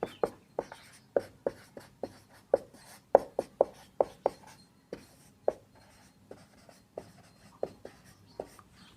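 Handwriting in Hindi with quick, irregular bursts of pen or marker strokes tapping and scratching on a surface, close and crisp, with brief pauses between words and no speech.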